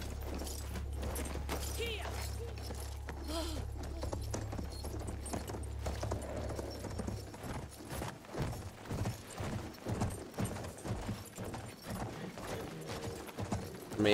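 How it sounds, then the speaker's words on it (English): Horse hooves clip-clop in the World War I shooter Battlefield 1, a steady rhythmic trot under a dense wash of game noise, low rumble and scattered impacts, fairly close and moderately loud throughout. "Another horse there."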